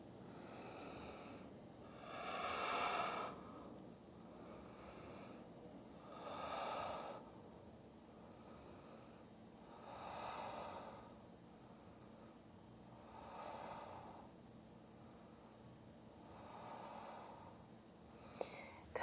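A person breathing slowly through the nose while holding a standing yoga lunge, a series of about six soft, evenly spaced breaths, close and quiet against a faint background hiss.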